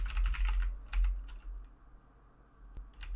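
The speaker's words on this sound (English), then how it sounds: "So we simply type include" Rapid keystrokes on a computer keyboard while entering include code for an EJS template in a Node.js project, close and clear in bursts with short pauses between runs of typing.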